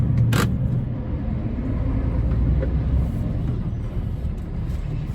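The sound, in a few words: trucks on expressway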